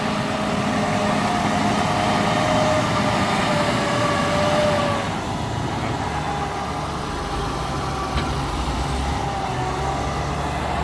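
An old Liugong wheel loader runs with a loud, steady diesel engine drone and rumble that eases slightly partway through, with no talking.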